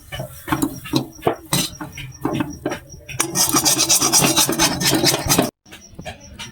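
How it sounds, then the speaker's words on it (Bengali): A spoon scraping and stirring cooked dal in a kadai, rhythmic rasping strokes that turn into a continuous rapid scrape before stopping abruptly, close and loud. "একটু নেড়ে চেড়ে নামিয়ে নেব"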